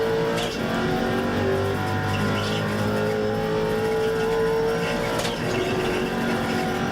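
A late model race car in the iRacing simulator revs hard, its engine note climbing through the gears with brief dips at each shift, loud and continuous with no talking.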